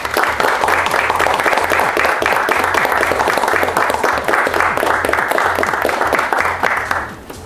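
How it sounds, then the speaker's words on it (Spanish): Steady audience applause fills the room at a model competition as a photographer is welcomed, dense, even clapping holding for about seven seconds before tapering off at the end. "nos acompañará el fotógrafo Carlos Montano, para quien pido un fuerte aplauso."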